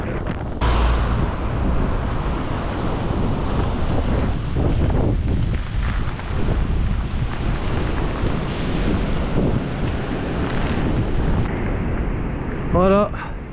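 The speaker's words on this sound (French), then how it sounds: "Aujourd'hui, je ne sais pas ce qui se passe, il y a énormément de vent." Strong gusting wind roars and buffets loudly against the microphone of a cyclist riding on a stormy December day near the German border, continuous and heavy, with someone speaking over it.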